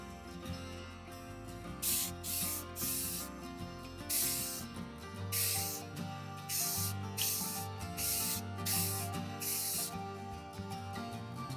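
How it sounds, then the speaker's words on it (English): Krylon Crystal Clear gloss coat is sprayed onto a hand mirror in about eight short hissing aerosol bursts, each around half a second, over steady background music. "I'm going to apply a few light coats of this gloss Krylon Crystal Clear and let that dry"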